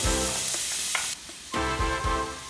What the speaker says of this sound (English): add in your diced onions to a pan of olive oil and cook for about 5 minutes on a medium heat